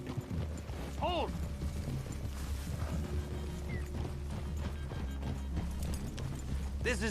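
Horse hooves clip-clop steadily across the ground amid outdoor ambience in the video game Red Dead Redemption 2, with a short whinny near the start; no one speaks.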